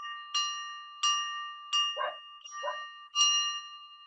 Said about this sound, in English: that is our brain teaser bell